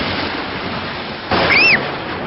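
Cartoon thunder booms midway through a steady rush of rain in a Peppa Pig rainstorm, a short loud burst with whistling swoops over the constant downpour.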